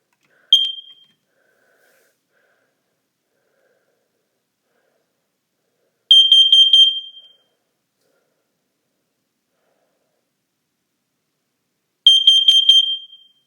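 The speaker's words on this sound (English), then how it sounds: "This is a really cool carbon monoxide alarm." A First Alert CO615 carbon monoxide alarm in a bedroom sounds its test pattern: three loud, shrill electronic beep bursts spaced about six seconds apart, with silence in between.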